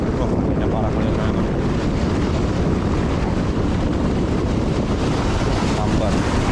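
Strong wind buffets the microphone on a fishing boat at sea, a loud, steady roar with water and hull noise throughout.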